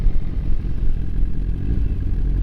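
BMW S1000RR motorcycle engine running loud and close, a steady low rumble with rough rev fluctuations and no clear sharp throttle blips, continuous throughout with no talk.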